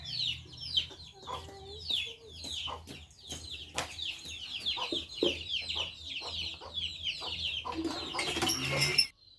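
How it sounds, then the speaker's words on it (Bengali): Chicks and hens cluck and cheep close by at a yard water tap, a busy run of short repeated calls that swells louder near the end. "এই যে মুরগির বাচ্চাগুলো যখন আমি কলের পাড়ে আসবো, ওরা আমার সঙ্গে সঙ্গে কলের পাড়ে আসে"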